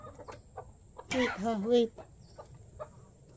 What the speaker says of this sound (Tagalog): So ito ang aming manok.